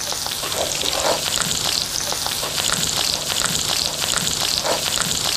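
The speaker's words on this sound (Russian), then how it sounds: "Пока в кеце блюдо немножко кипит, мы опускаем туда немножко гранаты." A dish simmering in a pan as pomegranate seeds are dropped in, giving a steady close crackling sizzle with scattered sharper pops throughout.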